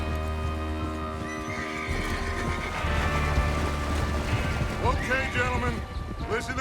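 Horses neigh and whinny in the Red Dead Redemption 2 video game, with hoof clip-clop and busy game sounds layered underneath. One clear whinny rises near the end over a steady background.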